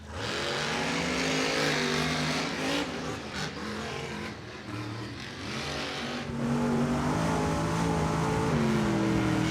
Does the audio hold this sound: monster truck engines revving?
yes